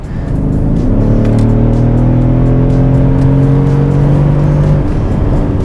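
A Mercedes-Benz S63 convertible's engine roars loudly and steadily as it is driven fast, its pitch rising and holding through the whole stretch.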